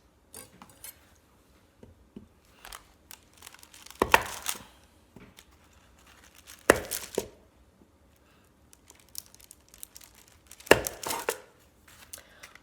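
A knife cuts through a block of hardened homemade soap on a cutting board lined with waxed paper, giving a few sharp, separate chops with quiet handling in between.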